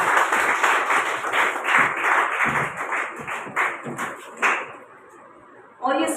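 An audience claps loudly to welcome a guest being escorted to the stage, a dense burst of applause that gradually thins and fades, with voices mixed in and a brief sharp noise at the end.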